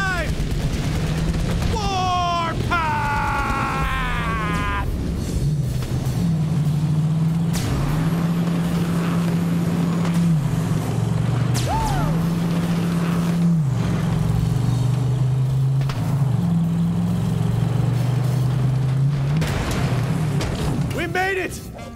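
Vehicle driving in Borderlands 3, a steady loud engine drone shifting pitch through gear-like steps, mixed with gunfire bursts, while voices talk and shout over it.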